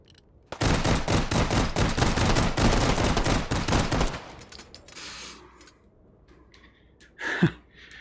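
Rapid bursts of M93R pistol fire in Hot Dogs, Horseshoes & Hand Grenades, a dense rattling volley for about three seconds, then quieter handling clicks and a sharp breath or exhale near the end.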